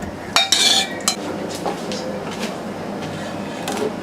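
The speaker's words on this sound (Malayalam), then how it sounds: "ഇനി നമുക്ക് ഈ വേവിച്ച പരിപ്പ് നമ്മൾ സാമ്പാർ ഉണ്ടാക്കാൻ പോണ പാത്രത്തിലോട്ട് ഒഴിച്ചു കൊടുക്കാം." Cooked lentils (dal) tipped from a vessel into a metal pot for Kerala sambar, with sharp clinks and scrapes of utensils on the pot rim, then softer handling sounds.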